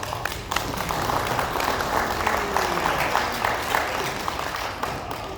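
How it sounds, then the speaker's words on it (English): Audience applause after a speaker at a town government meeting calls for a round of applause, a dense steady patter of many hands clapping at moderate level throughout, with no voice over it. "Give all those guys a round of applause."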